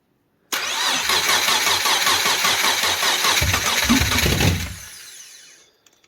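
Subaru Impreza with a swapped EZ30R flat-six cranking on a starter wire with a low battery, churning rhythmically for about four seconds and nearly catching with a brief rise before it winds down and cuts to silence.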